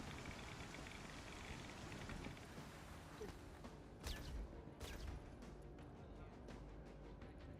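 Steady rain in the video game Star Citizen, a constant dense hiss of falling drops with a few sharper clicks and bursts mixed in, faint and even throughout, no one talking.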